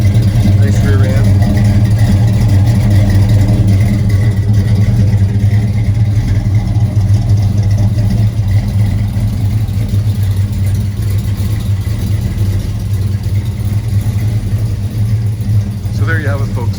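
A 1968 Chevrolet El Camino with a 350 V8, headers and dual exhaust with big mufflers idles with a steady, deep, loud rumble throughout, while someone talks over it.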